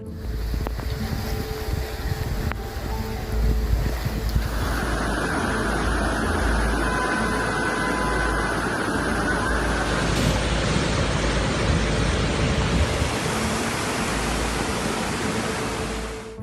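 Floodwater from the Vodopadnaya River rushes through Yalta in a dense, continuous roar that swells louder partway through and holds steady, with wind buffeting the microphone.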